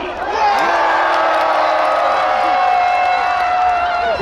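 Crowd cheering and shouting at the 2019 Pohang fireworks festival in Korea, a sustained roar of many voices with whoops rising above the din, loud and continuous throughout.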